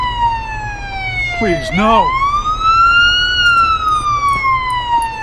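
Ambulance siren from the Police Simulator: Patrol Officers video game wails in long rising and falling sweeps, loud and steady throughout, while a short distressed voice cries out briefly near the start.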